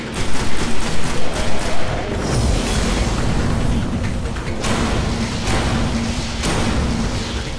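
Destiny gameplay gunfire on Hard Mode at the Shrine of Oryx, opening with rapid rhythmic bursts of shots and then turning into a loud, dense, continuous barrage of weapon fire with recurring heavier blasts over a constant rumble.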